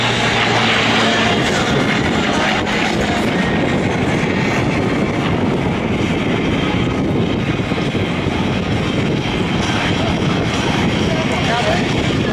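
A Yak-9 and an L-39 fly a slot pass at a military open house airshow, their engines giving a loud, continuous roar that holds steady throughout, mixed with crowd and public-address ambience.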